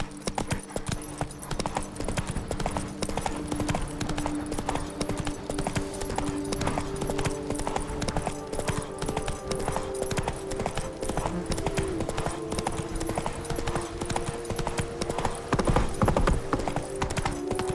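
Roach the horse gallops in The Witcher 3: Wild Hunt – Blood and Wine, a rapid continuous clatter of hooves with a brief whinny, over a busy game soundscape.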